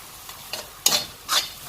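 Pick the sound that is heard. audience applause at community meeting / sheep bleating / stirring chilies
stirring chilies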